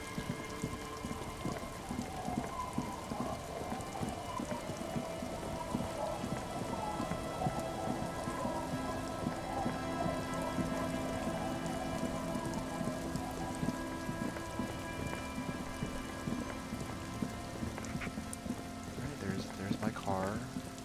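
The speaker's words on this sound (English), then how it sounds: "it's raining" Steady rain falls on surfaces in the game Disco Elysium, a dense continuous hiss with patter of drops across the whole stretch, under a faint game music and ambient bed, with no talk.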